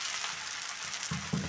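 Dosa batter of mixed leafy greens frying in a spoonful of oil on a hot pan as it is flipped, a steady soft sizzle with a louder burst near the end.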